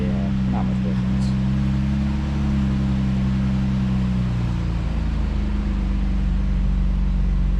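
A Ford 3.5 V6 idling steadily with a new mid pipe muffler, close, with a low droning hum that shifts slightly in pitch partway through.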